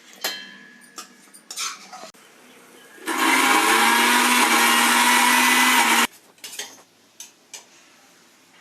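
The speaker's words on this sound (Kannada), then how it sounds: "ಮಿಕ್ಸಿ ಮಾಡ್ಕೊಳ್ಳಿ ನುಣ್ಣಗೆ" A kitchen mixer grinder whirs loudly for about three seconds while grinding onion chutney, with clatter of the jar and utensils before and after the burst.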